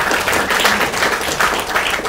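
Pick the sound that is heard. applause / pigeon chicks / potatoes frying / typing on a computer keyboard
applause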